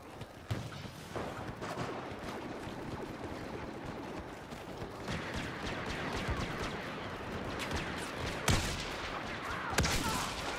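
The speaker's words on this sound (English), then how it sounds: "Ion Cannon, dude, those things are beast." Star Wars Battlefront video game combat with an ion cannon and gunfire: a dense, continuous wash of blasts and shots, with a few louder bursts standing out near the end, fairly quiet overall and with no talk.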